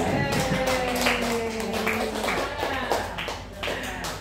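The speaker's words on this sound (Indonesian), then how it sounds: "Tepuk tangan." A short burst of scattered clapping from a small group, uneven and fading, with some murmuring voices underneath.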